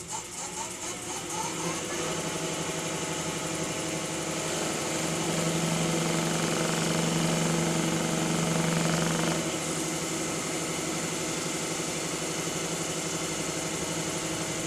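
A wood lathe spins a turkey pot call at high speed for polishing, producing a steady whirring motor drone with a faint rising tone as it comes up to speed, close and continuous with no talk.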